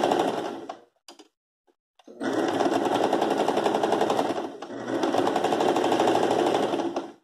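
A sewing machine stitches a round tablecloth being made into placemats, running in two long loud bursts of rapid rattling needle strokes separated by a short pause with a few stray clicks.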